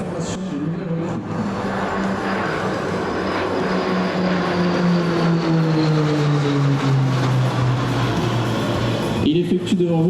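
A Tracker T24 propeller aircraft makes a high-speed pass at an air show, its loud droning roar sweeping steadily downward in pitch as it goes by, with no pause from start to finish.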